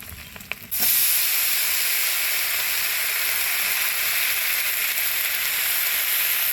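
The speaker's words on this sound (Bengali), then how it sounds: "শাক আলু বেগুনটা জল থেকে ছেঁকে কড়াইতে দিয়ে দিবে" A short clatter of greens, potato and eggplant, drained from soaking water, dropping into hot oil in a wok, then a loud, steady sizzle of frying that continues unbroken.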